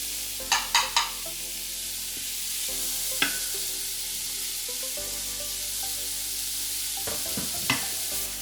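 Diced white onion frying in butter in an Instant Pot, a steady soft sizzle with a few sharp clicks of a spoon or lid near the start and again later.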